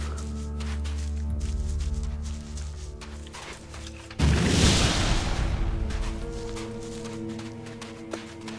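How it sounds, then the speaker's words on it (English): A mine goes off in the video game Elex, a sudden loud blast that bursts out and rumbles away over a few seconds against a quiet game backdrop with distant clattering. "I like it that the explosion actually leaves behind some burning parts that just fall down afterwards."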